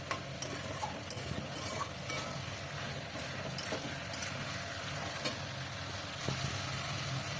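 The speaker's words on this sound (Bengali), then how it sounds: "লো টু মিডিয়াম আঁচে রেখে বেশ কিছুক্ষণ কষিয়ে নেব।" Spice paste with turmeric, cumin and chili powder slowly sautéing over low to medium heat for a fish curry, a steady faint sizzle with soft stirring scrapes throughout.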